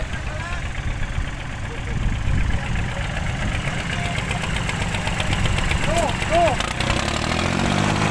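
A car engine hums steadily while driving, a constant low drone and road rumble filling the whole clip, with voices talking over it.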